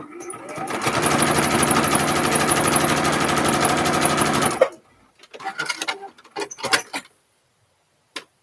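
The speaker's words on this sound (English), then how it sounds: "I'm going to do a row of stitching on top to kind of hold this guy in place." A sewing machine runs a continuous row of stitches across a quilt-as-you-go bag panel for about four seconds, loud and close. Then it stops, followed by scattered handling clicks and rustles.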